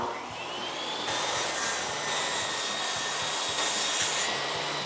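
A power saw cuts wooden pieces for a homemade wine rack, a loud steady whine holding through the whole stretch with a slight rise in pitch and no talk.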